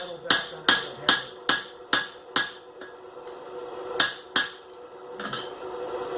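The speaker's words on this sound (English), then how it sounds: "I will bring my metal back under the hammer" Hot iron being hammered by a blacksmith while flattening a piece for a steak turner handle, a run of loud ringing hammer blows in a quick, even rhythm, then a pause and a few more strikes.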